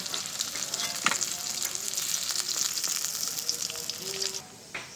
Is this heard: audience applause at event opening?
no